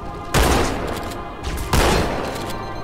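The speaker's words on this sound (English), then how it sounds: "I'm just using the shotgun because, one, I like shotguns." Shotgun blasts in Halo 2: Anniversary, two heavy booming shots about a second and a half apart, each followed by a long roaring tail that fills the moment, loud and close.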